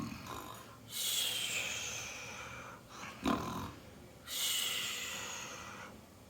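A voice imitates big snores for a bear snuggled in the grass: three drawn-out, breathy snorting snores with brief gaps between them, close and fairly quiet.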